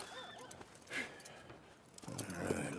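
A newly bought horse in the Western game Red Dead Redemption snorts and whinnies, with hoof clops on the ground and a louder rustling stretch near the end.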